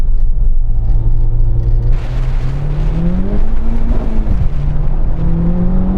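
Honda Civic Type R cars launch off a drag race start and accelerate with loud engine roars. Rising and falling rev tones show gear changes, and a second car joins with a sharper sound about two seconds in.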